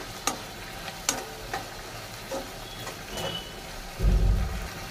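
Kashmiri red chilli powder being stirred into masala frying in a pan, with scattered spoon scrapes and clinks over a soft sizzle that swells louder near the end.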